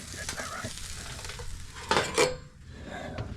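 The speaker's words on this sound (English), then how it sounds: "I've got a barbecue on the go as usual." Sausages sizzling on a simple barbecue outdoors, a steady close hiss with a couple of louder crackling bursts and light utensil clinks.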